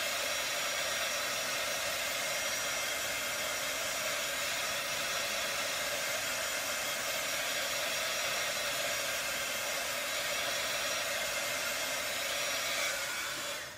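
A small handheld heat tool blows hot air to dry a paper craft project, a steady loud rushing hiss that continues unbroken for over ten seconds, close and alone.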